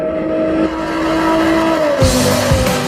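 A 2021 Jaguar F-Type engine hums at a steady pitch, then a sharp burst of active exhaust noise and rising roar near the end.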